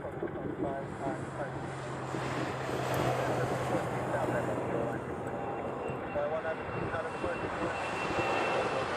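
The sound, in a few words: Boeing 717 airplane departing Honolulu airport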